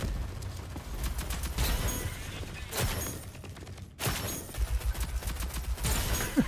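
Rapid gunfire bursts crackle through a Rogue Company match, dense volleys of shots fairly close and continuous, with a brief break in the middle before firing resumes.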